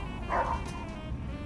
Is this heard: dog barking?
yes